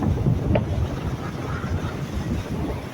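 High sea waves crashing against a bridge during a storm-driven swell at Mathagal, heard as a steady roar of surf and water mixed with heavy wind buffeting on the microphone, continuous throughout.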